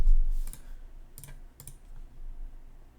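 Several quick clusters of computer keyboard keystrokes as a password is typed, sparse clicks spaced around half-second gaps, close and moderately loud over a low background hum.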